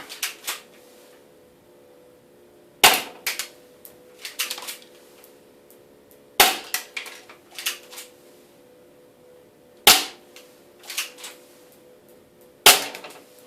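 Airsoft pistol shots fired at 325 feet per second strike an indoor target kit. Several sharp, loud cracks come at spaced intervals, each followed by a few lighter clattering impacts, over a faint steady hum.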